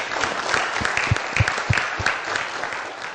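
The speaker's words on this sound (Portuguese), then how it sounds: "recebendo os aplausos!" An audience applauds Dr. Valdir at an event, a dense, steady burst of clapping from many hands throughout, fairly loud and close, with no talking over it.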